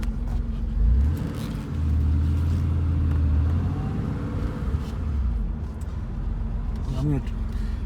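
A 1991 Porsche 911 C2 Cabriolet (964) with a stick shift drives along a quiet two-lane road, giving a steady low engine and road rumble with a slight swell, with speech heard over it.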